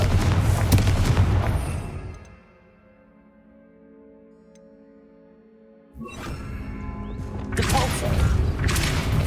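A Confringo blasting spell explodes in the video game Hogwarts Legacy with a loud, roaring blast that fades into a quiet lull of faint ringing tones, before another heavy burst swells back in.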